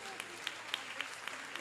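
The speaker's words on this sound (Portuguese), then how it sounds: "Você pode aplaudir o Senhor no seu lugar." Church congregation applauding during a celebration service, faint scattered clapping with a few sharper rhythmic claps spaced about a quarter second apart.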